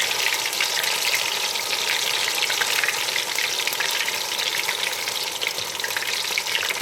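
Spinach rice balls deep-frying in hot oil give a steady, loud crackling sizzle that continues without a break, with no voices.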